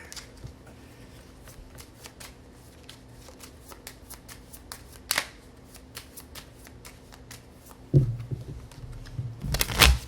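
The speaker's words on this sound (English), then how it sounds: "It's really weird shuffling Weiss and Magic cards." Weiss Schwarz and Magic trading cards are riffle-shuffled by hand in a run of crisp, rapid flicks and clicks, close and fairly quiet, with louder handling bursts near the end.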